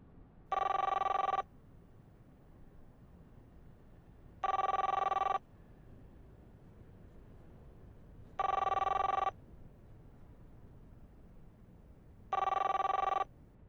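A telephone bell rings four times at steady intervals of about four seconds, each ring a short electronic burst. It is moderately loud and heard alone over faint hiss.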